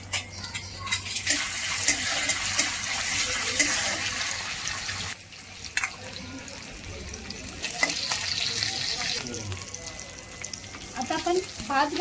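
Bay leaf and curry leaves dropped into hot oil for jeera rice, a close, crackling sizzle with sharp pops and spatters that surges, briefly dips, then keeps fizzing.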